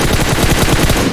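Rapid bursts of automatic gunfire in PUBG on the Sanhok map, loud and close, with sustained rattling shots filling the moment and no talk over them.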